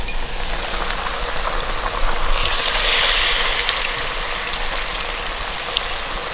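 A steady, loud sizzle of sweets deep frying in hot oil, briefly intensifying into a brighter hiss midway, with no voices.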